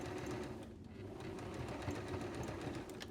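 Sewing machine stitching steadily to bind the fabric edges of a baby hat, the presser foot centred on the edge like an overlocker; a continuous close mechanical whir with rapid needle rhythm, heard alone.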